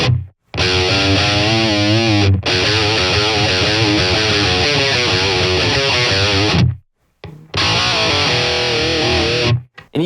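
A BOSS Katana MK2 amp drives a heavily distorted electric guitar through loud, chugging riffs, cut by a few sharp silent stops between phrases.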